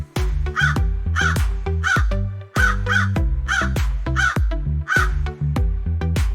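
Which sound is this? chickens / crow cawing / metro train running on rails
crow cawing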